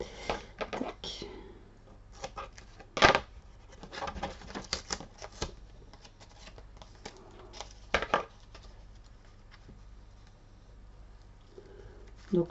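Paper being trimmed at the edge of a handmade Winnie the Pooh shaker card, with a few sharp snips and rustles, two louder cuts standing out, close and fairly quiet, while someone talks softly in French between them.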